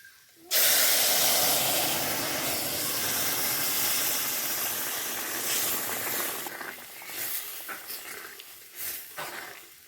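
Moong dal hits a hot pan with vegetables and erupts in a loud, sudden sizzling hiss that holds steady for several seconds before thinning into crackling spatters.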